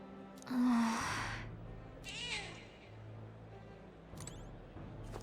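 A cat in the video game Metaphor: ReFantazio gives two meows, a loud drawn-out one near the start and a shorter one soon after, over low game ambience.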